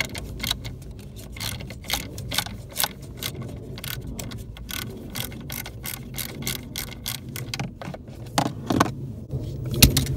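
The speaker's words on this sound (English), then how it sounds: "I can reach it with this little nubby ratchet" Small stubby ratchet loosening 11mm nuts on a 2005 Ford Focus, a rapid run of sharp clicking bursts, close and steady over a low mechanical hum, with a few louder clacks toward the end.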